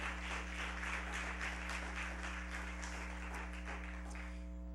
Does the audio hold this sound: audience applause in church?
yes